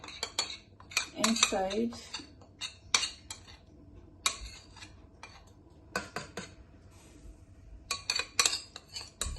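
Spoon scraping and clinking against a pot while red palm oil mixed with ogbono is added to boiling okra soup; sharp metallic knocks come in irregular bursts, close and clear, with a faint murmur of background sound.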